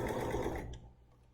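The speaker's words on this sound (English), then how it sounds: "So let me sew that." A BERNINA sewing machine runs a long straight stitch, a steady close mechanical whir and clatter for about half a second, then stops abruptly, leaving near silence.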